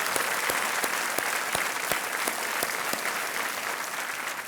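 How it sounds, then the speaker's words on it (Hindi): Studio audience on the KBC quiz show set bursts into loud, sustained applause, a dense steady clatter of clapping hands with no voices on top, holding evenly throughout. "बहुत बहुत स्वागत इनका जोरदार तालियों के साथ।"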